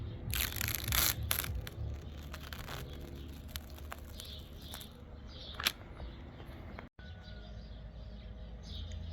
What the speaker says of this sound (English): I think I'm just gonna pull the plastic off now